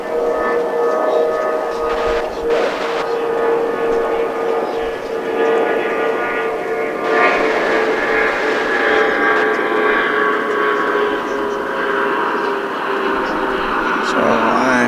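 A jet airliner departs at Dallas Fort Worth International Airport, its steady engine roar and whine holding throughout, with a voice talking over it.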